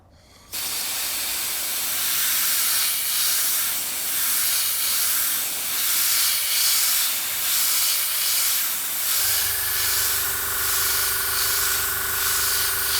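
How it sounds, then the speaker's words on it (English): An airbrush sprays Amsterdam acrylic paint with a loud, continuous close-up hiss that starts abruptly and pulses gently. A steady compressor hum joins underneath partway through. "Okay, so let's airbrush this and see how it looks."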